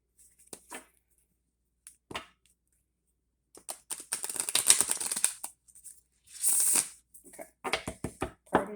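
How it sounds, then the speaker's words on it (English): Bursts of oracle cards being shuffled and riffled, papery and crisp, broken up by pauses, with a few soft handling clicks in between. "these are very hard to shuffle."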